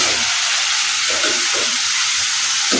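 Eggplant (brinjal) slices frying in an oil pan while chicken cooks, giving a steady close sizzling hiss with soft bubbling bursts and no voices.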